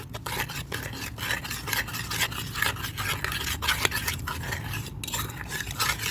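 Spoon stirring a mixture in a pot right after milk is poured in, a steady scraping and swirling with faint clinks, close and continuous with no talking.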